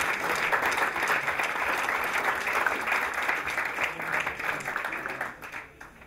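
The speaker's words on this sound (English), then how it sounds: "A big round of applause there for Ria and Hugh." Sustained audience applause at an awards ceremony for Scottish land-based and aquaculture learners, dense steady clapping from a full room that holds loud for about five seconds before thinning out at the end.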